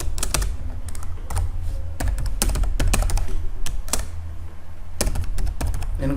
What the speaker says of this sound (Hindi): मैं प्रोग्राम को यहाँ टाइप करता हूँ